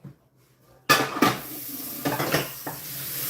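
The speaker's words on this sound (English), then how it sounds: "Get that pan in the sink." A frying pan is set down into a kitchen sink with a loud metallic clatter, followed by a few lighter knocks of cookware and dishes close by, with no talking.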